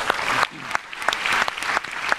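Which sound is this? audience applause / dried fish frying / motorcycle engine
audience applause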